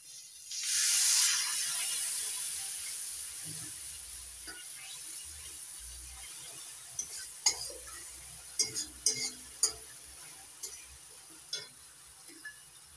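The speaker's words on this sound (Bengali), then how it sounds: "এবার অল্প অল্প জল দিয়ে মশলাটা কষিয়ে নেব।" Water hits sizzling masala with Kashmiri red chilli powder in a hot pan, setting off a sudden loud hiss that fades to a low sizzle, followed by light clinks and scrapes of a spoon stirring.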